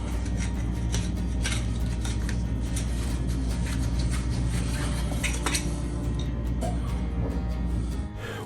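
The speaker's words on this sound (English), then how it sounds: "So now we're going to clean up all the burrs." A cut copper pipe is deburred with continuous scraping and rasping. Faint metallic clinks sound through a dense, steady noise that runs for about eight seconds at close range.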